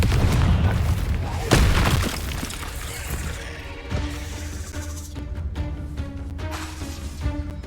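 A booming Confringo spell blast in Hogwarts Legacy, a heavy low explosion up front with a sharp loud hit a moment later, then rumbling debris and swelling game music as the blast fades.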